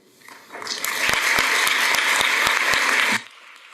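Audience applause at a women jurists' conference builds quickly, holds steady with a few sharper near claps standing out, then cuts off sharply near the end, leaving quiet room tone.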